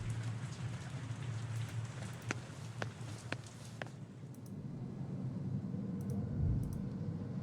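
Rain falls steadily in a video game, a soft continuous patter at low level, with a few faint clicks near the start and no talking.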